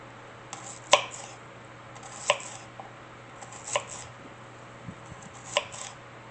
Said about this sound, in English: you just slice those up, and then slice your onions the same way